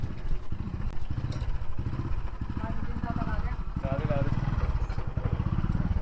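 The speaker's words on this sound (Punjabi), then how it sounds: "ਬੰਦ ਕਰ ਦੋ 2 ਮਿੰਟ ਮੋਟਰਸਾਈਕਲ" A motorcycle engine runs nearby with a steady, throbbing putter that holds throughout, alone without voices.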